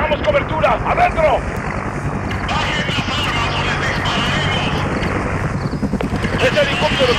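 An attacking helicopter in the Call of Duty: Modern Warfare video game drones loudly and steadily throughout, under urgent shouted voices and other battle noise.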